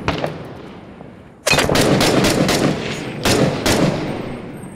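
Gunfire in the Six Days in Fallujah video game: a few scattered early shots, then bursts of rapid automatic fire with sharp repeated cracks, a short lull, and another burst, close and loud.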